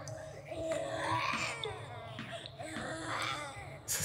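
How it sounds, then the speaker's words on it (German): A baby cries and whimpers in the horror game Rotten Flesh, a wavering infant wail that rises and falls over about four seconds, mixed with low ambient game tones and a voice speaking over it. "Ist das ein Baby?"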